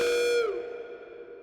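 Audio feedback tone from the Nirvana plugin swells with bright harmonics, then cuts off and leaves a reverb tail that decays smoothly over about a second, alone and fairly loud.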